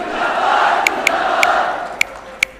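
A loud crowd at a BJP political rally roars and cheers steadily, with a few sharp whistles cutting through at intervals.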